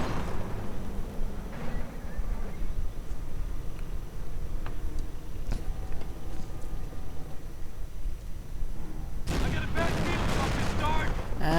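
In a WWII strategy video game with Panther and Sherman tanks, scattered distant gunshots and tank cannon fire sound over a low battlefield rumble, with a heavier burst of fire near the end.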